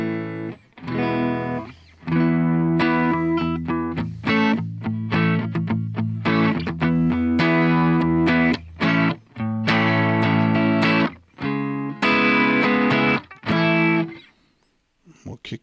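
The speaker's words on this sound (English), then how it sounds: "this is the tone of the guitar just without the reverb" A clean electric guitar through a Fender Tone Master Pro plays strummed chords and picked notes with a dry tone, no echo or reverb tail, pausing briefly between phrases.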